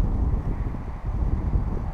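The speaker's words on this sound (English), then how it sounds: "It's a little windy today." Wind gusts outdoors on a breezy day, a continuous low rumble buffeting the microphone with slight swells and dips throughout and no talking.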